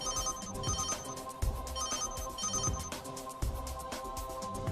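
A telephone rings with a steady repeating electronic ringtone pattern, fairly faint and looping in regular bursts, with no talking over it.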